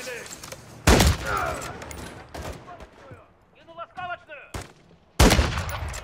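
Gunfire in the video game Call of Duty Modern Warfare 3: loud bursts of shots at the start, again near one second and at the end, with quieter game sounds and a little electronic chatter between.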